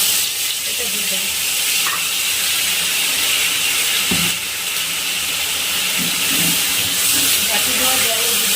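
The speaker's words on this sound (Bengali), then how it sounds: "মশলাটা ভালো করে তেলের সঙ্গে একটু ভেজে নেব" A mustard and poppy seed spice paste with turmeric and Kashmiri chili frying in hot oil gives a loud, steady hiss and sizzle that holds throughout, with faint scattered clatter underneath.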